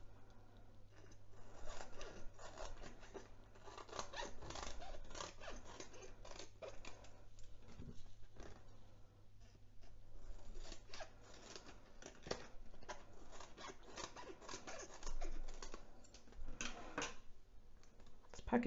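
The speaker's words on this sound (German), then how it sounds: "Und jetzt kann ich meine hintere Folie ausschneiden" Scissors cutting plastic film for a handmade spring lantern, quiet repeated snips and crinkling rustles in an irregular rhythm, with a low hum underneath.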